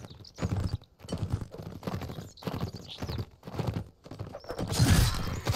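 Horse hooves in a video game cavalry duel clip-clop in a steady trotting rhythm, fairly close, with a brief whinny and no talking.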